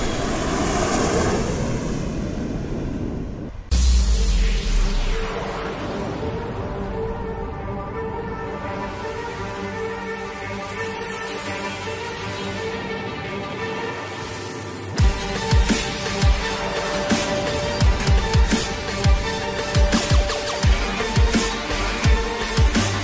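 Jet aircraft in a Minecraft roleplay game flying overhead, a steady loud engine roar that surges at about four seconds and continues with rumbling bursts and jolts toward the end, with no talk.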